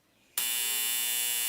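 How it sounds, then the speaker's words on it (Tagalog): A loud, harsh timer buzzer at a senatorial forum sounds abruptly after a quiet moment and holds as one continuous electric drone. "you're going to hear the buzzer."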